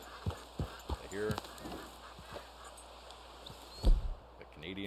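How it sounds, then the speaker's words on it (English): Canada geese give a few scattered honks at middle distance over a low outdoor background, with thumping knocks and a faint voice mixed in. "the Canadian geese."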